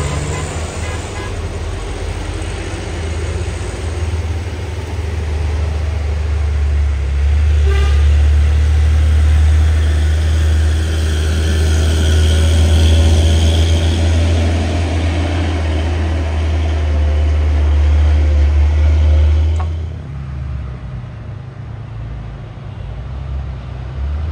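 Three container trailer trucks rev their engines hard in a loud, sustained low roar with a horn-like tone, steady for about twenty seconds before abruptly dropping away.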